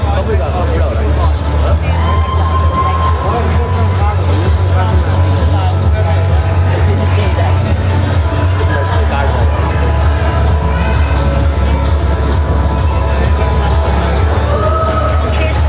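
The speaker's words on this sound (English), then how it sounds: "come on, a round of applause" A large crowd at a beauty pageant crowning cheers and applauds, with whoops and shouts mixed into a steady, loud roar of clapping that carries on throughout.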